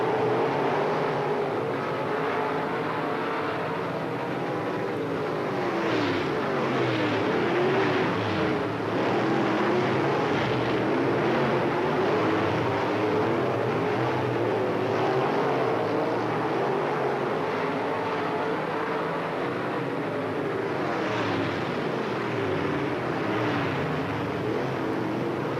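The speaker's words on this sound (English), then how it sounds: "So in our first very exciting late model event here tonight on this Memorial Day weekend at East Moline Speedway, we find Jake Willard in" Late model race cars circling East Moline Speedway on a Memorial Day weekend night, a continuous loud engine roar swelling and fading as the pack passes, with no talk over it.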